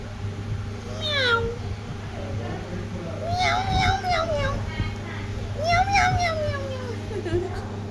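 A voice imitates a cat, giving a few high, sliding meows amid chatter and a low steady hum.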